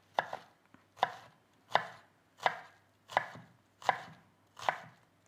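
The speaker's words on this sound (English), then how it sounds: "So just chop this way, so it's easier for me to just chop this and chop." A knife chops through an onion on a cutting board, seven crisp, evenly spaced strokes close up, each a sharp thunk that quickly dies away, with no talking.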